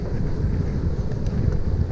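Light wind rumbles across a GoPro microphone during a gravel bike ride along the Seine near Maisons-Laffitte, a low steady buffeting noise with no speech.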